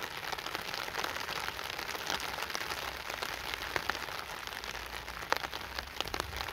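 Rainwater running off a tarp pours steadily into a bottle outdoors after a rainstorm, a continuous close patter and trickle with scattered splashy drips, no voices.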